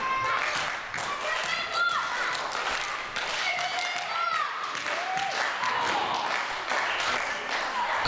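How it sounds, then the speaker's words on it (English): Fans at a women's wrestling championship show clap and cheer continuously for a wrestler held in a hold, with whistles and shouts over the applause and a commentator talking throughout. "The crowd getting behind Emily Hayden"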